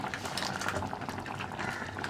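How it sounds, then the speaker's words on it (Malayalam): Milk poured into a hot cooking dish of Malabar-style banana cooked in milk, giving a steady close bubbling and sizzling hiss with no talk. "ഞാനിനി പാല് ചേർക്കുകയാണ് ഇതിലേക്ക്."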